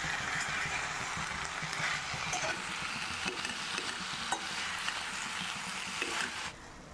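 Cabbage and chicken curry stir-frying in a hot pan, a steady close sizzle with scraping stirs throughout that drops off slightly at the end.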